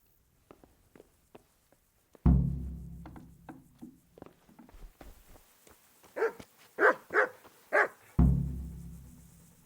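A dog in the medieval game Kingdom Come: Deliverance barks, a few sharp, fairly loud barks in close succession, set among soft footsteps and rustling, with no talk.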